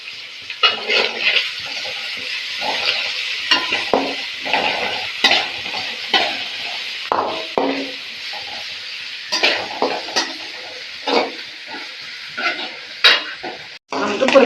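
Upma ingredients being sautéed in a pan, with repeated scraping stirs of a spatula over a continuous hiss and sizzle, loud and close, no talking.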